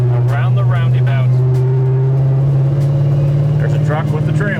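A 1972 Pontiac GTO burbles through its 3-inch exhaust while rounding a roundabout, a loud steady low rumble up close with someone talking over it throughout.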